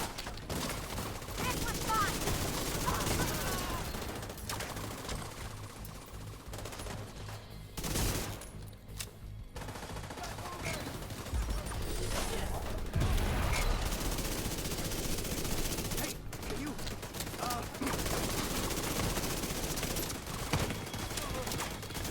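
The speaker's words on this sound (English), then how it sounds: "that turret is lighting me up" An automated turret in the video game The Division 2 fires sustained machine-gun bursts, dense rattling volleys with brief gaps, loud and close, mixed with other game sounds.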